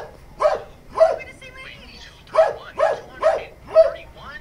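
A dog barks in short sharp bursts, six distinct woofs spaced irregularly over a few seconds, moderately near against a quiet background.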